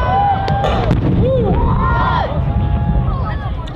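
Pyrotechnic Wall of Fire explosions at the MCAS Miramar Airshow 2014 finale: loud, booming blasts with crackling bursts, heard over a crowd that cheers and talks throughout.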